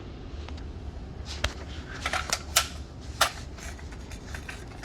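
The action of a SCAR 16 rifle cycles and ejects, giving a handful of sharp metallic clacks and clicks over a quiet background, close and isolated.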